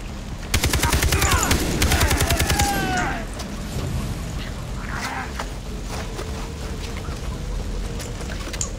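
Rapid automatic gunfire in the video game Far Cry 3, a loud sustained burst of shots for about two and a half seconds, then quieter game ambience with faint distant pops.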